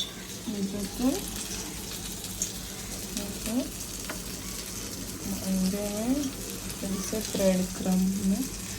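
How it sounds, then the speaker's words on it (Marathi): Food sizzles in a pan in a home kitchen with a continuous frying hiss beneath, while people talk intermittently over it throughout. "तळून घेते फ्राय करायची प्रोसेस चालू"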